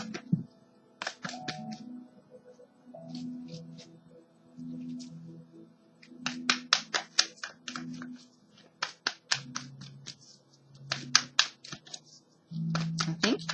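Tarot cards pulled and shuffled from a deck, a run of crisp, close card flicks and snaps in quick bursts, with a soft low murmur of voice beneath at times.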